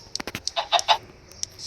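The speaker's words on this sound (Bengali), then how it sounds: "এই যে মুরগি এইদিকে" Chickens on a farm clucking in a quick run of short, close calls, a few overlapping, then a lone call near the end.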